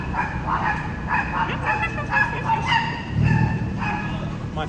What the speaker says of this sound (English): the homeless man and his chihuahuas are not happy.